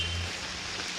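Rain falls steadily during a cold, wet ride toward Mannavanur, an even, soft hiss of drops with no voices over it.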